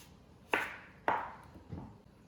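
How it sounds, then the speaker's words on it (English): Sharp knife strokes through an onion on a cutting board: two crisp, fairly loud chops about half a second apart, then a softer, duller third cut, close by with no one talking. "Now I cut the onion."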